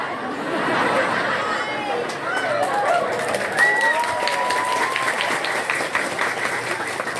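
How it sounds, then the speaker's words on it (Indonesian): Audience applause and chatter at a humorous religious lecture for an Isra Mi'raj gathering in Bogor, a moderate crowd clapping amid murmuring voices and a few laughs, with a voice speaking over it. "Wah, kita dikasih tepuk tangan."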